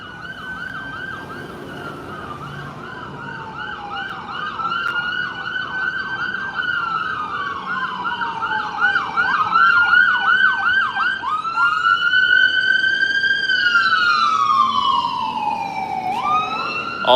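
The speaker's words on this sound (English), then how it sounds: "The ambulance is normal, and it looks like they're coming from downtown." An ambulance siren passing through a city wails in repeated rising and falling sweeps, loud and close, then shifts into long slow glides as it moves by, with no talking.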